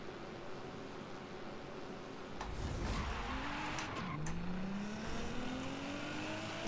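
Nissan GT-R driven in Forza Horizon 5, engine tone rising through gears with a noisy rumble, a burst of tire noise and skidding partway through, then pitch climbing again as it accelerates.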